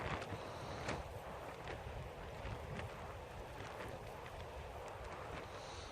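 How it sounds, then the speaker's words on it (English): Steady wind blows across a mountain campsite, a continuous broadband rush with microphone buffeting and a few faint flaps or knocks, loud and close, with no talking. "Oh, the wind's not cooperating."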